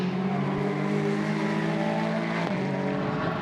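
GT race cars, including a Ferrari and a Honda, drone steadily through a corner at Misano circuit in a Blancpain GT Sports Club race, their engine tones sustained and shifting slightly as they pass.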